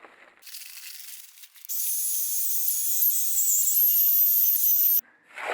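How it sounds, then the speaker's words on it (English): A power drill churning concrete mix in a bucket for a DIY countertop, a loud whining, grinding motor running steadily for several seconds, preceded by scraping rustles and stopping abruptly. "My drill was starting to strain and it began to smoke"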